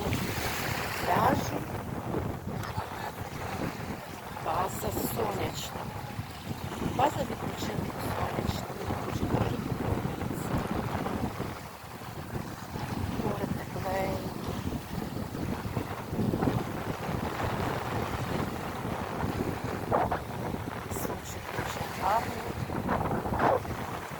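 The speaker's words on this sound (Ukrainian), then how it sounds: "І я хочу трішки пройтися з вами по березі моря" Sea waves wash onto a beach shore at Prymorske with steady wind buffeting the microphone, a continuous roar of surf that swells and eases throughout.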